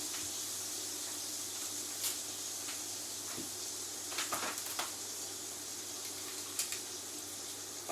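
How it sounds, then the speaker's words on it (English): Smoked haddock lightly pan frying in a kitchen, a soft steady sizzle and hiss throughout, with a few faint clicks and clatters of handling over it. "In there, I'm just going to lightly pan fry it, not for very long."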